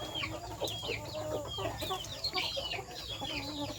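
Young chickens cluck and peep continuously at a home flock during the rainy season, a busy overlapping chorus of short calls at close range.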